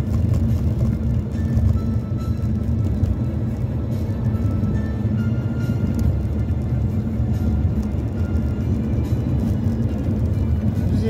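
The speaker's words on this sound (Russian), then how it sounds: "даже вот этот шум от машин слышно" A steady low rumble of road traffic in Saratov in December goes on throughout, a constant hum of passing cars without distinct individual pass-bys.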